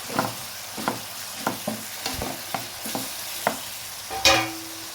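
A spoon scrapes and clacks steadily as spices are stirred into roti noodles in a pan, with a light sizzle underneath and a sharper clink near the end.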